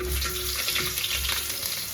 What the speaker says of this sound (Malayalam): ഇനി നന്നായിട്ട് ഇതൊന്ന് വഴറ്റണം